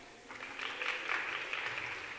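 University attendees at a keynote talk break into applause, a soft, distant patter of many hands that swells briefly and holds steady.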